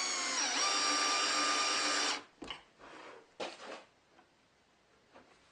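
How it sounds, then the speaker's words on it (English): A drill fitted with a backwards screwdriver bit presses small wooden dowel alignment pins into place, giving a loud steady whine for about two seconds, followed by a few short quieter knocks and scrapes. "My insertion tool is just a screwdriver bit that I put in the drill backwards."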